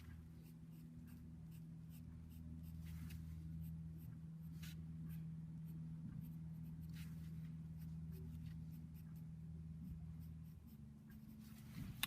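Graphite pencil strokes on paper while drawing a realistic eye, a continuous soft scratching with short repeated strokes and no talking, sustained across the whole stretch.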